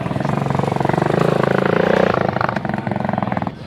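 A Wasteland Warriors vehicle at Wacken Open Air idles after struggling to start, with a close, rough, pulsing engine putter that rises and then settles, while a voice talks over it.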